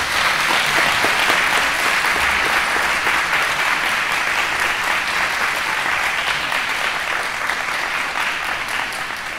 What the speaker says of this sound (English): Big round of applause for the moms.